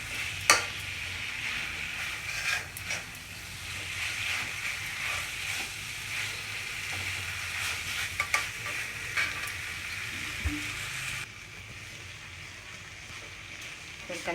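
Breakfast ingredients stirred in a pan over high flame, a steady sizzle with repeated stirring scrapes and a few knocks, dropping quieter toward the end.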